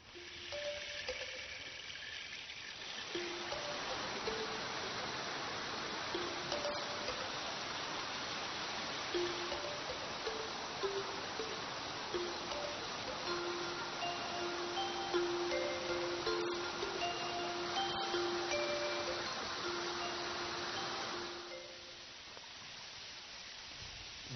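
Continuous broadband rushing of a large tiered waterfall in Shangri-La, China, steady and fairly loud throughout, with a few faint tonal sounds drifting over it.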